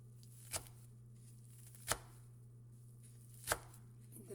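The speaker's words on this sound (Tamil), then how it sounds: "இப்போ அதை நல்லா தூள் தூளாக வெட்டிக்கிறேன்." Rolled pumpkin leaves being chopped finely with a knife on a board, three sharp, widely spaced chops over a faint steady hum in a quiet room.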